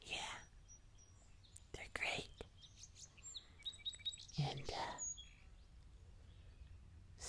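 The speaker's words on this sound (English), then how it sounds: "Come out here and listen to the sounds of the birds." Birds chirp and tweet faintly outdoors at a summer picnic, with scattered short calls coming and going behind close, soft whispering.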